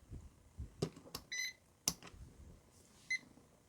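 A ZOYI ZT-1000R insulation tester switching on gives two short electronic beeps, close and fairly quiet, one early and one near the end, with a few sharp handling clicks between them and no talking.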